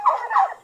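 Farm turkeys let out three short gobbling calls in rapid succession, close by with no other sound.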